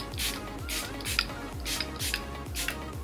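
A plastic spray bottle of charcoal makeup setting spray is shaken rhythmically, giving about six regular sloshing, rattling strokes at close range with no speech.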